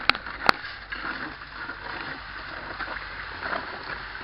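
Hand-turned gold prospecting drum rotating with water poured in, at a gold diggers' outing outdoors; a steady close rushing, sloshing wash runs throughout, with two sharp clicks near the start.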